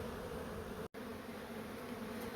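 Honey bees from a hive being relocated in Bradvale make a dense, steady buzzing hum close by, broken only by a split-second dropout partway through.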